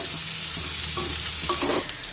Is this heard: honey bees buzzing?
no